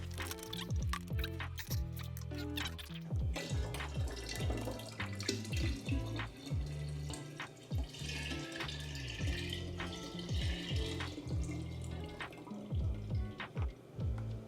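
Cold brew coffee draining steadily for home nitro cold brew, a continuous trickle of liquid with irregular close drips and small splashes throughout.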